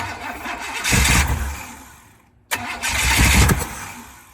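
An old classic truck engine cranks and sputters in two bursts separated by a brief near-silent gap, loud and rough, without catching into a steady run.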